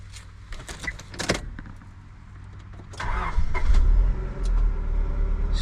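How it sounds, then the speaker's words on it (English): A Honda S-MX engine cranks briefly and catches, then settles into a steady, close idle hum; a few clicks and clunks come before the start. "Now let's start the SMX."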